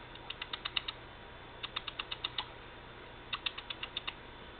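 Three quick bursts of rapid clicking chatter, each a short run of sharp ticks, sounding like a voice imitating a squirrel or chipmunk, fairly quiet and close.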